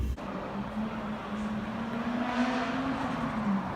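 A car, apparently a BMW E36, drives along the street with a steady engine drone that rises slightly in pitch as it goes, moderately close with no talking.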